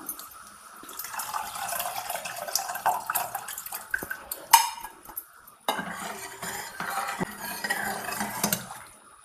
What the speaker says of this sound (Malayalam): നമുക്കതിൻ്റെ പുളി ഒഴിക്കാം